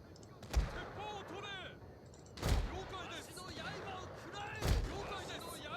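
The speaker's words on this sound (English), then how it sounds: "The towers are already beginning to fire." Defensive towers fire during a Shogun 2 Total War battle: three loud, sharp blasts spaced about two seconds apart, each ringing out over a busy battlefield din with bird-like chirps and clatter.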